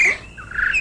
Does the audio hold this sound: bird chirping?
yes